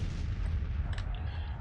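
Cannon fire in a Civil War strategy game: rumbling artillery booms roll continuously through the clip, with a sharper crack near the one-second mark, dense and sustained with no clear talk.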